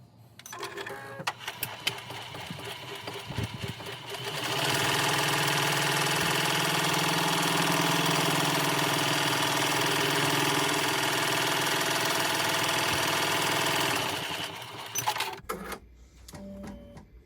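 Embroidery sewing machine stitching a vinyl pencil tag, a steady, fast mechanical whirring hum lasting about ten seconds, preceded and followed by handling clicks and clatter, close up.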